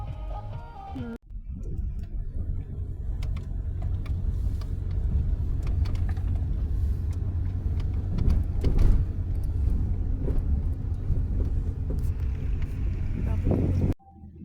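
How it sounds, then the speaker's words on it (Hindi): A family car's engine idles and rumbles steadily at close range as it is taken out for a drive, a low continuous drone with a few mechanical clicks, running for most of the stretch before cutting off near the end. "अभी पापा गाड़ी निकाल रहे हैं"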